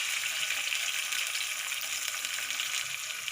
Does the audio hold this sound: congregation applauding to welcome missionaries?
no